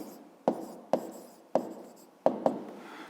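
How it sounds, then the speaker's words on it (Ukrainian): A pen writes an answer on paper in a few short, sharp scratching strokes with brief gaps between them. The sound is close, and no voice is heard. "Пишемо відповідь"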